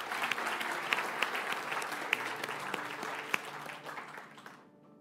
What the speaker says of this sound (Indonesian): Saya mau ajak kita semua yang non-full-timer memberikan tepuk tangan pada setiap full-timer.